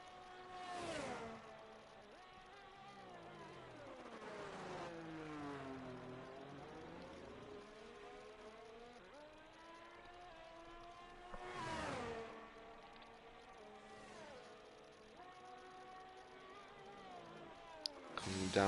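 A Haas F1 car on a hot lap at Austria in a racing game screams through sweeping upshifts and downshifts, its pitch rising and falling over and over, with a few louder whooshes as it brakes and accelerates. Commentators talk over it throughout.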